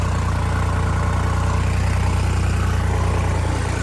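Tractor engine working a 9-foot rotavator in a field, heavy steady low drone under load with the revs sagging, loud and continuous with no speech.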